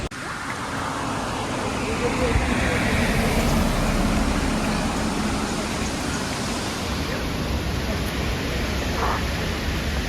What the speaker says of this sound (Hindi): लेकिन यहाँ पर हवा बहुत तेज़ चल रहा है, बहुत तेज़